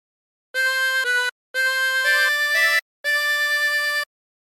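Short phrase from Yellow Rose of Texas played on a 24-hole tremolo harmonica, three reedy held chords with a wavering shimmer separated by brief breaths, close, clean and alone.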